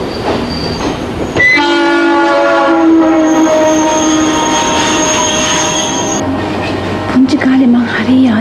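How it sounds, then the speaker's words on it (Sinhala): Trains move through a railway station with loud rumbling and clattering wheels, squealing metal, and sustained horn tones that rise and shift before fading. "මේ තරම් එහාට මෙහාට යන කෝච්චි"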